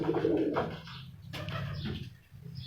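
Sharmila breed pigeons from a breeder's loft give soft, low cooing calls, a continuous warbling murmur with a brief sharp flutter or click midway, fairly close and alone.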